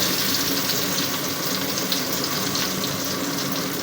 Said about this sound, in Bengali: তেল গরম হলে আমি দিয়ে দেব পেঁয়াজ কুচানো।